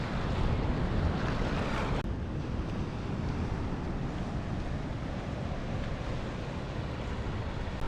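Surf breaking on a remote beach at an off-road camping spot, a steady broadband roar of waves mixed with heavy wind buffeting the microphone, continuous and fairly loud throughout with no voices.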